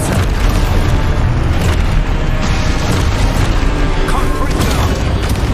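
Expulso spell blast in Hogwarts Legacy: loud booming impacts and crashing bursts amid constant battle noise, with a voice shouting over the combat.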